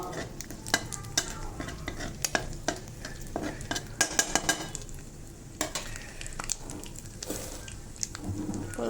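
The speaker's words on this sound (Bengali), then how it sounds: "ফোড়নটা ভাজা ভাজা হয়ে গেছে" Whole spice tempering for a spicy pumpkin and prawn curry sizzles in a pan while a utensil stirs and scrapes it, with repeated clattering strokes over a steady frying hiss, close and moderately loud.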